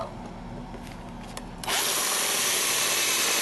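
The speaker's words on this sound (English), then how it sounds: "So I've got my homemade steel plates cut, and I'm just about to drill the holes." A power drill bores holes in homemade steel plates, quiet handling noise first, then the drill kicks in sharply and whines loud and steady at close range until the end.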